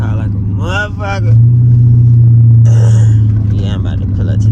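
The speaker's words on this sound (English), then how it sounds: "That straight pipe be loud as a bitch." Deep, steady exhaust rumble from a Dodge Challenger SRT8 392 with a straight pipe exhaust, droning loudly throughout from inside the car at night, with someone talking over it at the start and end.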